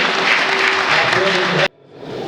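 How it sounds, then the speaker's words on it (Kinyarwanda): Applause at a church wedding ceremony, a loud, dense burst of clapping from a crowd that cuts off sharply, followed briefly by a voice. "Komera Imana amashyi"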